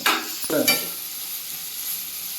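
Potatoes sizzle and fry in a pan for a veg kadai, with a couple of brief stirring scrapes near the start and then a steady, close hiss.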